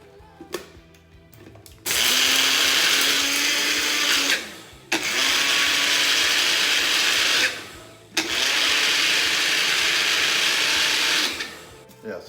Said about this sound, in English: I'm going to pour these into a blender, and I'm just going to go ahead and blend these up a little bit more